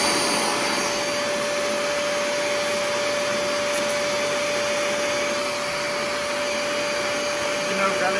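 A Bissell SpotClean Pro spot cleaner runs continuously with a loud, steady vacuum-motor roar and a high whine that does not change throughout.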